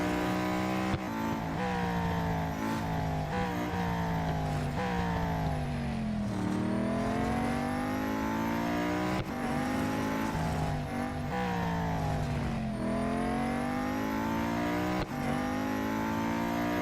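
A race car's engine in the mobile game Real Racing 3 howls continuously, rising and falling in pitch through repeated upshifts and downshifts, loud and unbroken with no talking.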